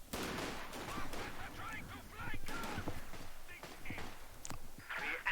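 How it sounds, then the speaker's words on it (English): Sharp bursts of video game rifle gunfire from squads crack at irregular intervals over a steady noisy backdrop, with some shots louder and closer than others. "Oh, and we have gunfire."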